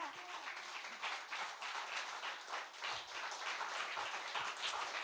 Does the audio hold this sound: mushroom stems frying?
no